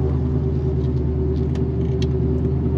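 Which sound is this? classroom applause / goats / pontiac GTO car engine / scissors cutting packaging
pontiac GTO car engine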